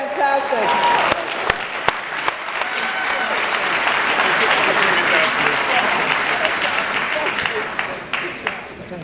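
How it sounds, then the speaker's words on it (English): An audience at an awards dinner applauds for honoree Eric LeGrand, with dense, sustained clapping for several seconds alongside faint voices before it tapers off at the end. "let's give him another big round of applause"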